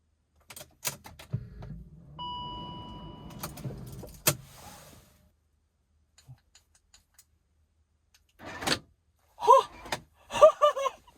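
A key in a BMW E39 ignition switch gives several metallic clicks and jingles close up, with a brief hum in between, then a pause, followed by a few sharper clicks and rattles near the end.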